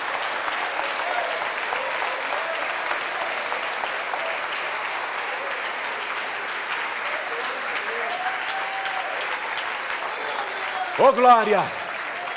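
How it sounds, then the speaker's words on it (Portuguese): Congregation applause fills a church service, a steady dense wash of clapping from a large crowd that runs throughout, with a voice speaking and singing over it and a brief louder vocal swell near the end. "vamos aplaudir mais."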